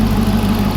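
A Hemi V8 car engine, run again after sitting for over two years, idles with a low, steady throbbing rumble, close and loud, over a brief moment.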